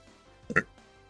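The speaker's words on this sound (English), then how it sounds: "I got a burp. Hold on." A single short burp from a gamer during Pokémon commentary. It is a brief, close, throaty burst lasting about a tenth of a second, with quiet room tone before and after.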